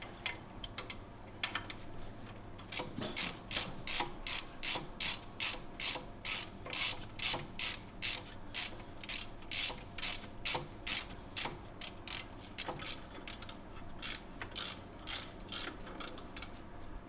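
A ratchet wrench clicks in fast, regular bursts as caliper bolts are torqued on the rear brakes of a Mercedes SL55 AMG R230, the close mechanical ticking running steadily with brief pauses and no speech.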